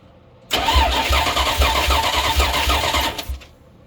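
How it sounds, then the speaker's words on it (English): A car engine with one dead cylinder cranks over on the starter during a compression test, a loud rhythmic churning with regular low thumps for about three seconds before cutting off, with no talking. "go ahead and crank her over"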